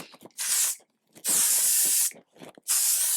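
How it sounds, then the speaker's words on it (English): Three short, sharp hissing bursts of L'Oreal 3-second setting mist sprayed onto a made-up face, each lasting under a second with brief quiet gaps between, close and fairly loud. "let me spray with my L'Oreal 3-second setting mist"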